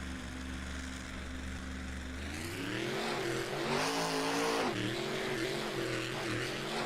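Northern Nightmare monster truck engine on a qualifying run around an oval track, a loud steady drone that climbs into a harsh revving roar midway, then dips and surges again, with no voices.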